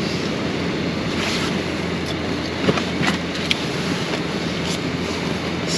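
Waves wash and wind buffets at Pevensey Bay beach on a cold December day, a steady loud roar of surf and wind noise with a few small knocks and clicks nearby.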